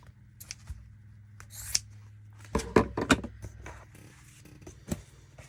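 Scissors cutting paper for a junk journal, with several crisp close snips in a quick cluster, separated by quieter pauses and light handling.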